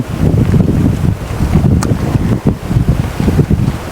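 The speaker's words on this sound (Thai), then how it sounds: "แต่ก็ลม" Strong wind buffets the microphone with a loud, continuous low roar and gusty fluctuations, outdoors near rice fields during harvest.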